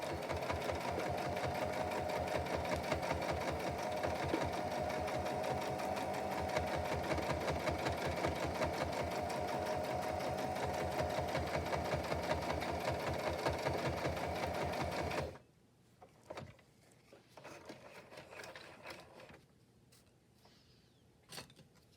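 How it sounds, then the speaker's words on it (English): A sewing machine runs a straight stitch with a loud, rapid, steady whir for about fifteen seconds, then stops, leaving scattered quieter handling clicks and rustles. "I'm going to do a straight stitch"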